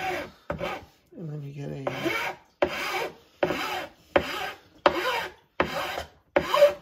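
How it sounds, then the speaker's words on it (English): A file rasps against the corner of a wooden pantry board in a repeated rhythm of about seven short, close strokes, with a brief spoken remark and a faint tonal squeak near the start. "Just file straight in, and it just kind of rubs it into the corner and smooths it off."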